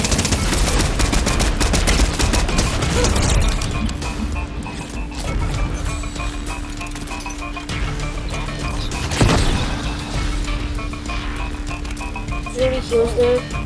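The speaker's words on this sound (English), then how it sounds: "He's up here shooting at me somewhere." Video game gunfire from an enemy player in a multiplayer match crackles in loud, dense bursts and rapid volleys. The shooting runs continuously across the stretch, with one sharp crash partway through.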